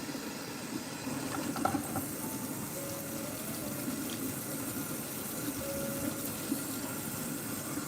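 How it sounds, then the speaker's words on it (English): Water runs steadily from a tap over a comb as it is rinsed at a sink, a continuous close rushing and splashing that lasts throughout with no voices. "I rinse it off again and then just put it in the disinfectant solution"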